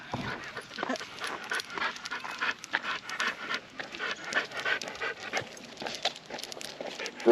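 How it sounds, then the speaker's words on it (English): Two dogs pant rapidly and steadily nearby on an outdoor walk, a continuous breathy rhythm with occasional small whimpers and shuffling. "Oh, there's 2 dogs. There ain't one, there's 2."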